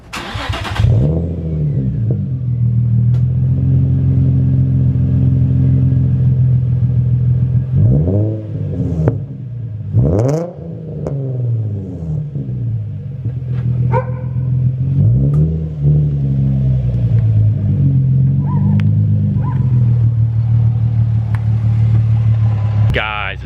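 Nissan 350Z fitted with an Agency Power exhaust, a deep, loud idle rumble broken by several sharp throttle blips that rise and fall, close to the microphone. A voice talks briefly between the revs.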